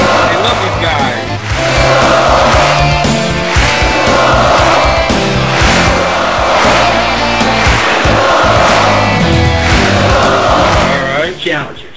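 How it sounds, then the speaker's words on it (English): A wild wrestling crowd roars continuously and loudly, with dense shouting, chanting voices and sharp bursts of cheering layered over a heavy rumble of noise throughout. "Man, these original crowd, the crowd is wild."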